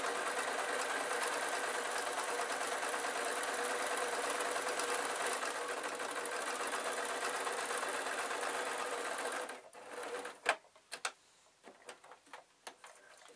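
A sewing machine stitches two halves of a spider soft toy together, a steady loud whirring run that stops near the end, leaving a few sharp clicks and handling knocks.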